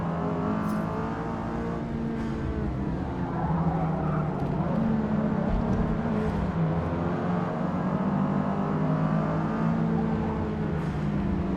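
A race car engine drones steadily at high revs during a lap in Forza Motorsport, holding a continuous whine with no pauses and no talk.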